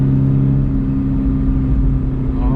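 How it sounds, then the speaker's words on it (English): A Toyota GR86 fitted with RS-R Super Down springs is driven hard through corners, its steady mid-pitched engine drone heard from inside the cabin, loud and continuous, with no talk. "we're going around the corners pretty aggressively here"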